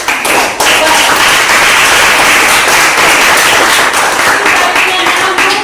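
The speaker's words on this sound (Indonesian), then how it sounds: "Mari kita tepuk tangan untuk kelompok 4 dulu." A classroom of students applauds a student group, dense steady clapping filling the room at close range and holding loud and even from start to finish.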